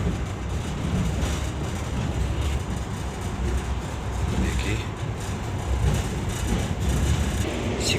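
Inside a moving railway wagon on the line near Saksaul by the Aral region, a steady low rumble of the carriage with faint rhythmic wheel clatter, a voice speaking quietly over it.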